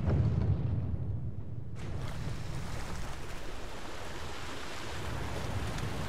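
Ocean surf in Zelda: Breath of the Wild rolls as a steady broadband wash, quieter at first, then swelling suddenly into a fuller, continuous roar of waves that holds to the end.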